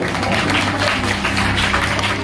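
An audience at an event claps in applause, a dense, steady wash of many hands held at even loudness throughout, with no talk over it.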